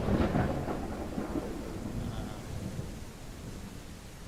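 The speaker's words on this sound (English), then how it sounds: "Love that there's thunder in a snowing game." Thunder rolls in the video game Snow Plowing Simulator, a deep rumble that swells early and slowly fades under a constant hiss of rain.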